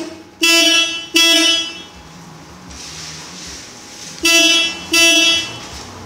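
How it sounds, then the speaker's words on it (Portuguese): A Positron car alarm wired to sound through the car's horn instead of its siren gives four loud, close honks: two quick blasts, a pause with a low hum, then two more. "Então, eu aciono o alarme."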